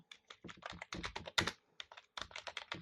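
Fast typing on a computer keyboard, close and crisp, with bursts of rapid key clicks broken by short pauses and no voices.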